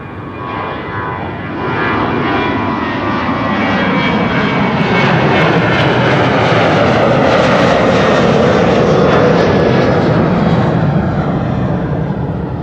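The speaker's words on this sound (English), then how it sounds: "No, this is the China Southern 777 to Shanghai instead" A China Southern Boeing 777 bound for Shanghai roars on the Kaagbaan runway at Amsterdam Schiphol, a loud sustained engine rumble that swells steadily and holds, with no voices.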